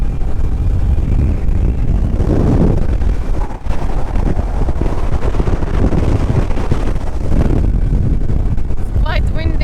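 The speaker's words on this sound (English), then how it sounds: "It's quite windy." Strong wind buffets the microphone on a rented quad being driven in Malta, giving loud, continuous low rumbling gusts with the engine mixed in, and a few voice fragments near the end.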